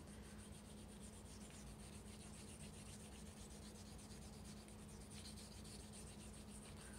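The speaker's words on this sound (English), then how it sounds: "When you find a blue crayon, you can go ahead and start coloring in the paper blue." A blue crayon rubs steadily across a sheet of paper to color it in, a faint, continuous scratchy rasp that goes on without pause and without any talk.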